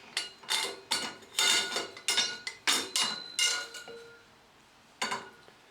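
M8 stainless steel and nylon washers clink against each other and the metal parts of a Halloween prop scissor mechanism as it is assembled, a string of sharp, close metallic taps in an uneven rhythm, ending after a short pause with one last tap.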